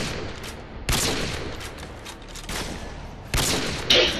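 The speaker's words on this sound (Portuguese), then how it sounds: "Agora dá outro tiro ali perto." Outdoors, a gun fires two sharp shots about two and a half seconds apart, then a third, smaller crack follows. Quiet stretches of low background noise lie between them.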